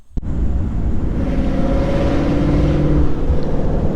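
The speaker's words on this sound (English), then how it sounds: "So you guys see I'm actually driving the car." Steady engine drone and road noise from a supercharged car being driven, loud and continuous after a brief click at the start, with no talking.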